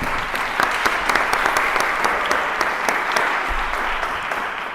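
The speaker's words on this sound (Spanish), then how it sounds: "Un aplauso para ellos." An audience at a university event in Burgos breaks into sustained applause, a thick steady wash of clapping with individual sharp claps standing out, loud and continuous throughout.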